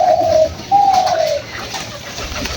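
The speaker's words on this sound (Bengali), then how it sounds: "এই যে সাদা কবুতরটি" Pigeons feeding on grain give two clear, drawn-out coos in the foreground. The second runs longer than the first, over a steady outdoor background with no talking.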